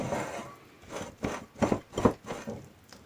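A salad of chicken, liver, carrots and beans is stirred in a bowl, giving soft irregular scraping and squelching rubs that swell into several louder strokes near the middle, close and fairly quiet.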